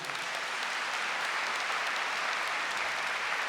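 A church congregation applauds during a Catholic priest's sermon, a steady wash of clapping hands heard throughout, fairly distant and even in level.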